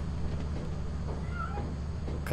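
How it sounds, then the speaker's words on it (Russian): A cat in the video game Lethal Company gives a couple of brief, faint meows over a steady low game background hum, with no talk. "Коты, блин."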